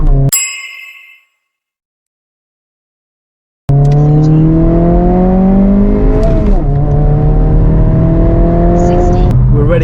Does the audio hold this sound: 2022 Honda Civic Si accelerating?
yes